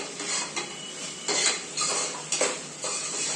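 Washed rice and mixed dal being stirred in a pot over a raised gas flame, a spoon scraping and clinking against the metal in repeated strokes with a light sizzle beneath.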